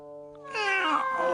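A cartoon cat lets out a single drawn-out meow, starting after a brief faint tone and swelling loud and close.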